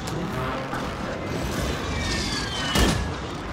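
Gunfire in Call of Duty Warzone at the Shorok Opera House in Urzikstan, a steady wash of distant shots and mechanical clatter with one louder boom near the end.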